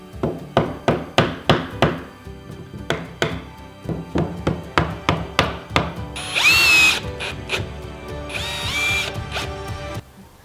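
Power drill driving screws to fasten wooden fence picket boards onto a plant box, a rapid series of sharp repeated bursts followed by two longer whirring runs, close and clear with no talk.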